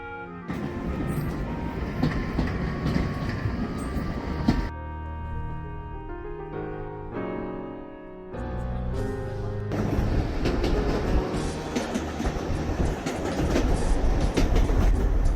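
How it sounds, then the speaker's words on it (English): Steam locomotive train riding through the Scottish Highlands, heard from aboard as a steady rumble with continuous clickety-clack of wheels on rails, changing in tone partway through as the carriage passes different surroundings. "riding on a steam locomotive through the Highlands of Scotland"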